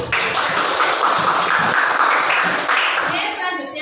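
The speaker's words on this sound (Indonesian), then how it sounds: "Tepuk tangan untuk kelompok satu" Classroom applause for a group of students, with quick, dense clapping from many hands mixed with voices and chatter, steady and loud before tapering at the end.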